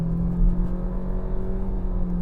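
A 2018 Nissan Sentra in sport mode accelerates hard, its engine droning loud and steady from inside the cabin with a low, sustained tone throughout.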